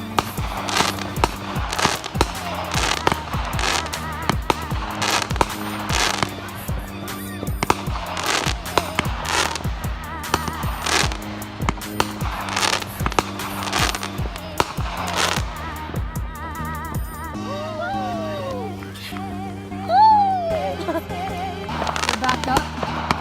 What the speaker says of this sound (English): whenever the fireworks stop, we're stopping the video obviously